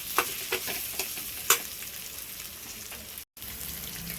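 Potatoes tossed with achari masala in a frying pan give a steady sizzle, with a few sharp spoon-scrape stirs near the start and a brief dropout near the end.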